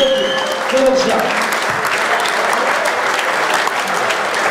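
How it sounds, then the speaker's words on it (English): Crowd applause at an amateur boxing match in Llay, Wrexham after the decision is announced for the red corner, sustained dense clapping that stays loud and even throughout. "Big round of applause."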